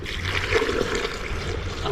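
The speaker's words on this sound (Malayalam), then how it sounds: "നമ്മൾ കുറച്ച് വെള്ളം ഒഴിക്കാം" Water pours steadily into a container, a close, continuous splashing trickle with no talk over it.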